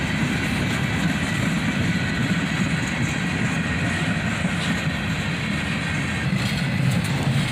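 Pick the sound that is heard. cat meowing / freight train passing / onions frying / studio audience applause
freight train passing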